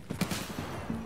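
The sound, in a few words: gunshot in Escape From Tarkov video game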